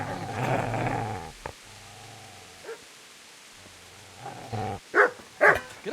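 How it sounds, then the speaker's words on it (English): A dog in the medieval role-playing game Kingdom Come: Deliverance growls low and steadily, then gives a few sharp, close barks and yelps toward the end. "Get away, you mutt!"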